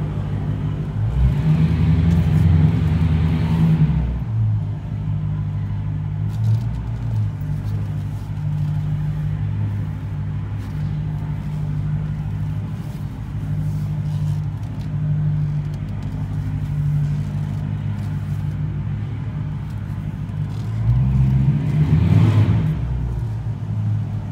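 A 2013 Chrysler 300S with a Hemi V8 and aftermarket exhaust rumbles steadily at idle, swelling into a loud rev at the start and again near the end, heard close up with no talking.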